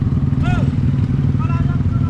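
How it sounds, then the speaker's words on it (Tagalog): Motorcycles at a crowded outdoor moto bazaar with test rides, a steady dense engine drone and rumble close by, with brief rising tonal whines layered over the constant low roar. "Ang daming, daming mga motor."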